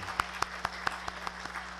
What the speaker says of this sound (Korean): 우리 뜨겁게 박수로 환영하겠습니다.